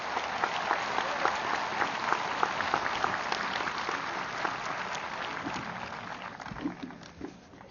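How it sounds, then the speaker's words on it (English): An audience at a high school graduation ceremony bursts into sustained, dense applause that holds strong for several seconds and then gradually thins out toward the end. "Now that deserves a big round of applause."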